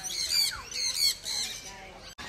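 Caged birds squawk at an aquarium park in Sindhudurg, India: a close run of harsh, repeated squawks and squeals that rise and fall, with a brief sharp break just before the end.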